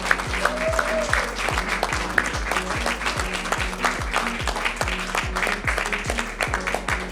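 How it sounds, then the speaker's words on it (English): A large audience claps at a telethon, giving dense, even applause that carries on without a break for about seven seconds, with a faint voice briefly audible near the start. "Let's give ourselves all a round of applause."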